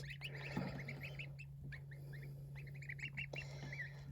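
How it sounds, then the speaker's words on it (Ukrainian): Goslings peep in quick, high-pitched bursts, chirping repeatedly over a steady low hum, fairly close and moderately loud. "сім сіреньких гусенят і одне біленьке"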